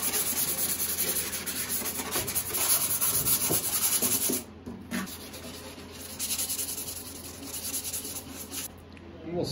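Steady, hard abrasive rubbing of sandpaper pressed firmly by hand on a lacquered acoustic guitar, continuous with short pauses and changes in stroke, close by.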